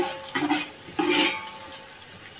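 Chopped onions dropped into hot oil in a pan while cooking Memoni winter dhokry, giving a close, hissing sizzle that swells in short bursts and then settles into a steady fry.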